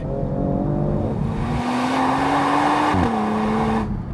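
A 2022 Genesis G70 turbo V6 engine revs and roars through its exhaust, pitch climbing under acceleration, then shifting and holding a steady droning growl, loud and close.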